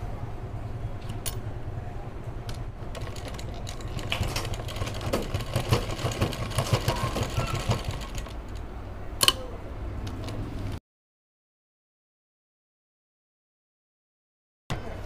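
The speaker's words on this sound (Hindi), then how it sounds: "यहाँ पे सिलाई पक्की कर देंगे।" Sewing machine stitching a zip into the back of a kurti, a steady close mechanical whir with fine rapid ticking for about eleven seconds, then stopping abruptly into silence.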